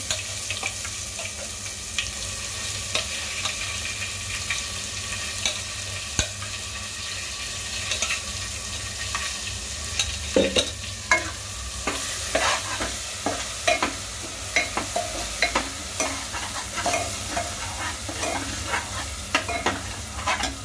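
Ground masala paste frying in hot oil in a pan for a Bhogichi Bhaji, a Makar Sankranti vegetable dish, with a steady sizzle under repeated spoon stirring and scraping clicks that grow busier toward the end.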